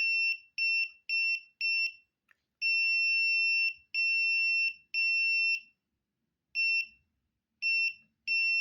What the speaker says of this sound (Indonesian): maka buzzer akan berbunyi dengan jeda